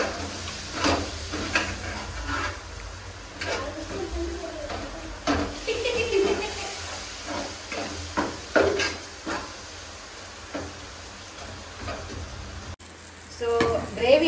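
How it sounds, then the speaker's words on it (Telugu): Chopped tomatoes added to chicken biryani gravy sizzle in a pan while a spoon stirs in repeated scraping strokes, a steady frying hiss throughout, with a brief sharper clatter near the end. "ఒకసారి కలుపుకుంటాం. ఈ టమాటాలు కూడా మంచిగా వేగాలన్నమాట."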